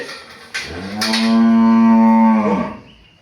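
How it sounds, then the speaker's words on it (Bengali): A dairy cow gives one loud, close, drawn-out moo lasting about two seconds after a brief rustle. "জাত মানে ভরপুর একটি কোয়ালিটি সম্পন্ন গাভীর পাশে দাঁড়িয়ে আছি"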